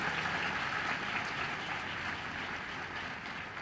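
A crowd applauds steadily at a Republic Day celebration at Shantikunj, Haridwar. The dense, even clapping holds at a constant level and sounds a little like rain.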